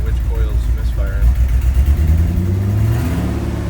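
A Ford F-250 engine idles with a misfire, running low and rough with an uneven, stumbling pulse. The rumble is close and continuous, with someone talking over it.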